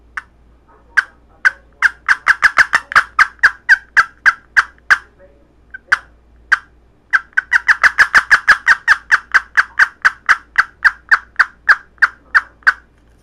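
A turkey call imitates the fly-down cackle of a wild turkey: fast, loud, closely spaced yelping notes that speed up, pause briefly, then burst out again in a second excited run, heard alone and close.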